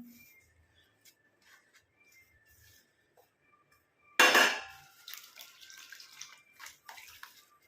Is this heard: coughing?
no